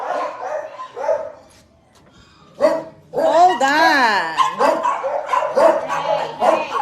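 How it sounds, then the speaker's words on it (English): Dogs at a rescue shelter in south Texas bark in loud, close bursts with yips and a whining, rising-and-falling howl in the middle, while people talk over and between the barks. "that one, I love his bark."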